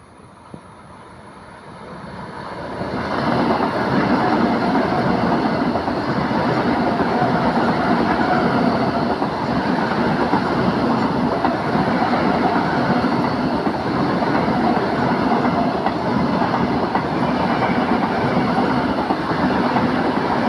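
A train rumbles steadily and loudly through Bekal Fort Railway Station in Kerala after a quieter start, with continuous rolling rail noise and clatter and no voices.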